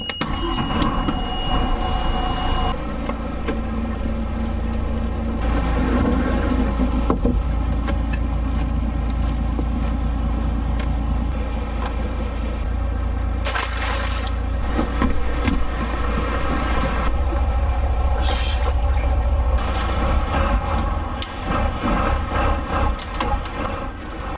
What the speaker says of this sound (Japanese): じゃあエンジンかけて